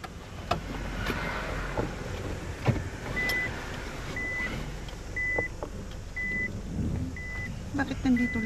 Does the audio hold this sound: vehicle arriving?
yes